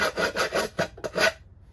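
Rasp filing the edge of a drywall patch piece, a rhythmic series of about six close, dry scraping strokes that stop abruptly and leave quiet.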